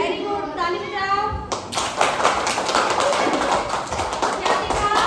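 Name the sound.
children clapping hands in classroom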